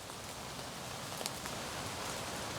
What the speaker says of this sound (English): Barely enough to dry off before the next rain arrives